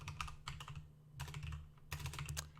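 Bursts of quick clicking keystrokes on a computer keyboard, close and fairly quiet, arriving in three short flurries with brief gaps between them.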